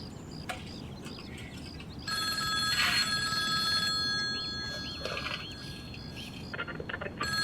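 A landline telephone rings in a domestic drama scene, its bell trilling in repeated bursts at moderate distance, with faint background ambience between rings.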